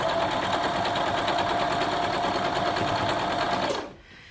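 A sewing machine chain-pieces quilt blocks, a fast steady whirring stitch that runs evenly for nearly four seconds before abruptly stopping, close and clear with no voice over it.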